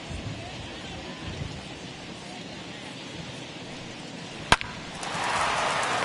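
Heavy rain in a baseball video game, a steady wash of noise running under game commentary, with a sharp crack partway through and the downpour swelling louder near the end.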